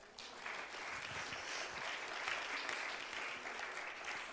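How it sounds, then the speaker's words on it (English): Hand clapping from a church congregation at a Wednesday service, a steady even patter of applause from a fairly distant crowd, faint and uniform throughout. "Can we give him a hand clap?"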